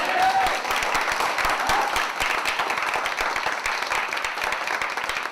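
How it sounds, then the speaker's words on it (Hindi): An audience at a training seminar claps steadily and loudly throughout, a dense run of many hands with no break, and a faint voice barely audible underneath. "एक बार जोरदार तालियां नहीं होनी चाहिए?"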